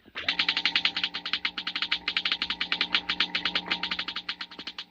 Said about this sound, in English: The crackling comes from a model atom smasher,